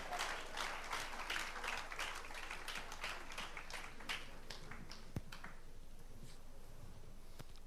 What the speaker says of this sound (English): you can do better with that round of applause for Nana